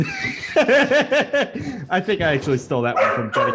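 Dog barking in a podcast studio, several short yips and woofs mixed in with someone talking and some chuckling, all close and fairly loud.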